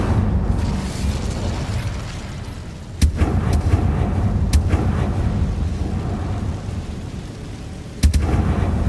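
Incendio fire spell in the video game Hogwarts Legacy, a few sharp booming bursts over a continuous low rumble, with two stronger blasts standing out.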